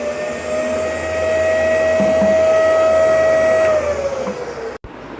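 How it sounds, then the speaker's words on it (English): A Karcher WD5 wet-and-dry vacuum cleaner runs loud and close while sucking up water from a bucket, a steady motor whine with a sustained tonal whistle that dips near the end before an abrupt cutoff. "So you can see the power of wet suction of Karcher vacuum cleaner."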